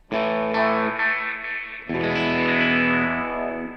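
Sustained electric guitar chords through a Double Tank reverb and delay pedal, notes blooming and echoing into a long wash, with a fresh strum about halfway through.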